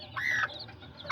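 Azteca chickens, small roosters and hens, give a brief cluck nearby, one short call in a quiet moment.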